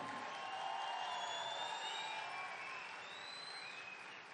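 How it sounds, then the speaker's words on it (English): An audience at a school day event applauds a children's show, a full, continuous roar of clapping with some cheering and whistle-like tones, fading slightly toward the end. "A big round of applause for them."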